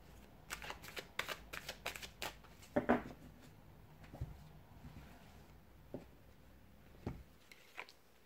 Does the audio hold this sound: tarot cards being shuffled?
yes